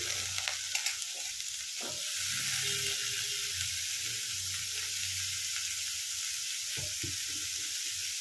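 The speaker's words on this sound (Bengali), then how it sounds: "পেঁয়াজ একটু নেড়ে নিয়ে আলু দিয়ে দিলাম" Onion and potatoes frying in fish oil for a Bengali macher tel chochori, a steady close sizzle with a few stirring scrapes near the start, no talking.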